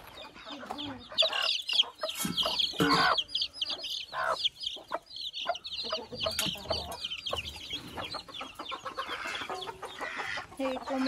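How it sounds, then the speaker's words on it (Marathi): Chickens at an agrotourism farm resort cluck busily and close by in irregular bursts, with ducks kept alongside them, while people talk faintly in the background. "इकडे कोंबड्या तर आहेतच आणि सोबत बदक पण आहेत."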